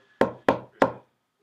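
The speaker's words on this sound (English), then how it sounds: "Sounds like there's somebody at the studio door." Three sharp, evenly spaced knocks sound on a studio door, close and loud against silence.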